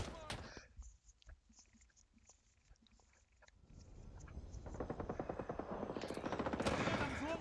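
Bursts of automatic gunfire from a weapon in the video game Rising Storm 2, a jungle battle, crackle fast and loud in the second half, building in intensity, while someone talks over the quieter opening.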